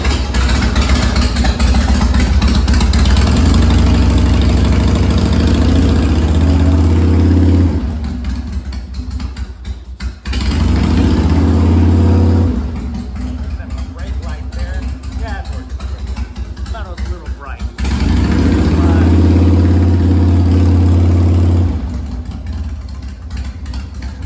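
A motorcycle engine, held on choke, runs after being started, heard as a loud, steady mid-pitched running drone in three long stretches with quieter gaps between them, and someone talking throughout.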